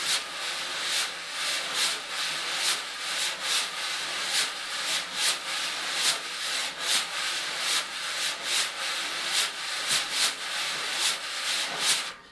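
Jazz brushes sweep in circles across a drum for a ballad pattern, producing a steady, close swishing rub with soft rhythmic accents, heard alone.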